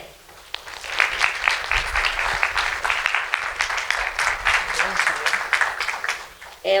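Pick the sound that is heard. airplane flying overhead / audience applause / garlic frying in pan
audience applause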